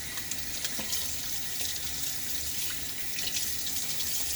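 A bathroom tap runs steadily into a sink for rinsing after a wet shave, a close, continuous hiss and splash with no talking.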